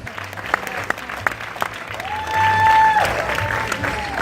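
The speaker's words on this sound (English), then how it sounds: "Make some noise for executive producer Sean Ryan." A crowd at the New York TV Festival claps and cheers steadily nearby, the applause swelling louder partway through with a whoop rising above it.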